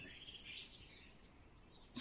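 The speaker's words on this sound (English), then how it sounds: "I mean, the birds chirping." Birds chirp as a sound effect in a visual novel video game, with faint, thin tweets in short bursts, steady and quiet in the background.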